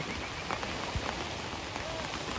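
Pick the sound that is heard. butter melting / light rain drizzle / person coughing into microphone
light rain drizzle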